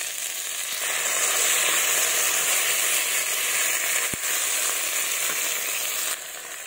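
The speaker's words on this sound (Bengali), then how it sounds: "তো মশলা আমি দিয়ে দিয়েছি, এবার ভালোভাবে কষিয়ে নেব" A freshly ground paste of dried red chilli, ginger and cumin fries in a pan for a light fish curry, making a loud, even sizzle close up with a single sharp knock midway, and no talking.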